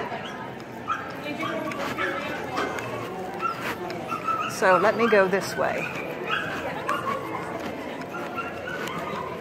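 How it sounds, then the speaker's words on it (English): A young female puppy whimpers and yips at a youth event, high whining calls rising over a busy room where people talk throughout, with a clearer burst of whimpering in the middle. "That puppy needs somebody to pay attention to her."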